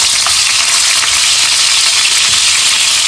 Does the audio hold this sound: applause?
no